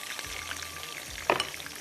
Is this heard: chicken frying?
yes